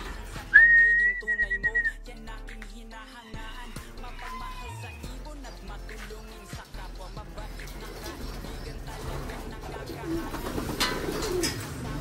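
An escaped pigeon loose in a store's stock section coos softly among whistled bird notes and faint background noise, with occasional low murmuring.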